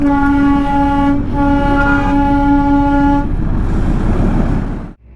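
Darjeeling toy train sounding a long, loud, steady whistle close by, briefly interrupted and then held again before fading into rumbling engine and track noise.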